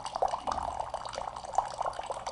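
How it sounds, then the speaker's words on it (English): Cold alkaline water runs steadily from a KYK 707 hot and cold hydrogen water machine, a close, continuous trickling stream with light splashing, heard alone. "the water just keeps running."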